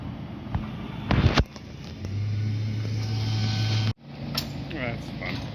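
A tow truck arrives on a roadside near Lake Superior with a close, steady engine hum and low drone, a brief sharp clatter early on and a sudden cutoff partway through before the engine noise resumes.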